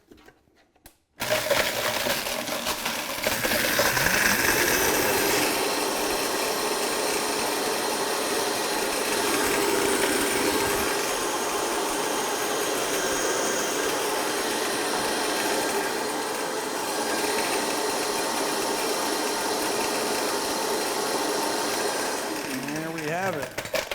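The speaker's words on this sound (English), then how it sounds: "throw this in a blender." A blender crushes a cup of old pellet ice for a Planter's Punch, its motor grinding loudly and steadily for about twenty seconds after a sudden start, with a voice heard over it at times.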